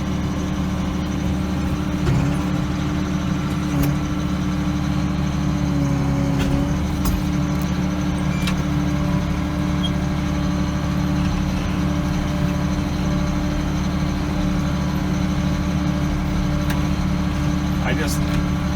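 A farm tractor drives a 540 PTO fertilizer spreader at about 1,500 RPM, giving a steady continuous engine drone with faint clicks and rattles on top, sustained for the whole stretch.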